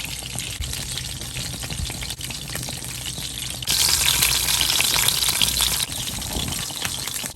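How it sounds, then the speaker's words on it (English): A batch of fish fries in a pan for a simple fish curry, giving a steady, loud, dense sizzle that runs without pause and swells partway through. "So I can fry the next batch."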